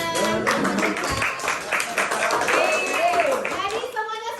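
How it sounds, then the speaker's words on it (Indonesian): A classroom of middle school students clapping at the end of a lesson, brisk close applause mixed with children's chatter and voices throughout. "beri tepuk tangan"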